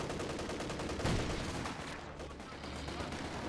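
Faint bursts of gunfire from the World War II strategy game Company of Heroes 2, scattered shots crackling at a distance in a skirmish, mixed low beneath the game's background sound.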